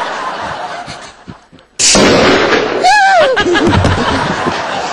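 A single loud gunshot cracks out in a Hindi TV serial scene from ETV Bihar, cutting through quieter background noise and followed by a sustained burst of noise and vocal sounds.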